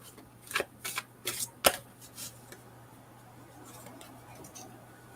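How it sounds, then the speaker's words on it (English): Several quick riffling bursts of cards being shuffled, close by, then a softer stretch of faint handling over a low steady hum. "Let's shuffle a little bit."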